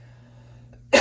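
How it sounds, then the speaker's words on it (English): After a quiet stretch with faint hum, a single sharp cough bursts out at the very end, close and loud. "I have to cough"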